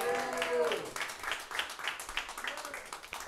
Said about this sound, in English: Round of applause, Uhuru!